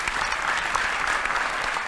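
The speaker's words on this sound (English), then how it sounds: "Please, a round of applause for all the time they put into this." Audience applause at a Sharyland Pioneer High School event, a dense, steady wash of many hands clapping throughout at even loudness with no talk.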